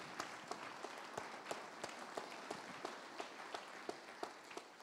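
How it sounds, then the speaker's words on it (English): Audience applause at a benefit auction fills the room, a steady wash of many hands with sharper individual claps standing out at a moderate distance, sustained throughout. "Give him a round of applause on that."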